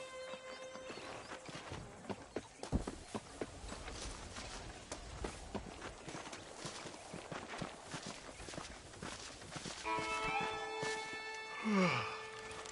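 Horse hooves clip-clop in Red Dead Redemption on PS5: a soft, steady run of hoof falls at moderate distance, with a bright tonal chime rising near the end.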